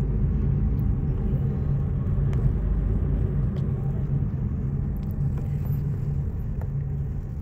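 A cab rolls through Delhi traffic toward the airport, its engine and road noise a steady low rumble from inside the car, with a few faint higher clicks and sounds over the drone.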